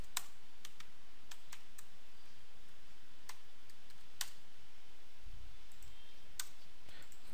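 Sparse clicks of typing on a computer keyboard while JavaScript code is written, individual keystrokes spaced irregularly over a faint steady hiss, close and fairly quiet with no talk.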